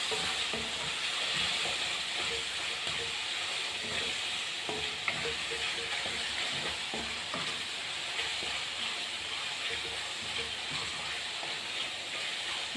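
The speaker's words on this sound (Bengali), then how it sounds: "আদা রসুনটা ভালো করে আর একটু কষিয়ে নেব এবং কাঁচা গন্ধটা না থাকে।" Ginger-garlic paste mixed with green chilli fries in a pan with a steady, close sizzle and hiss, broken by soft stirring scrapes, with no talk throughout.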